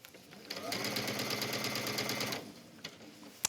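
A sewing machine hems the folded edge of a wrap dress, the fabric fold guided along the presser foot, running in a steady fast close whir for about two seconds before stopping, followed by a few faint clicks.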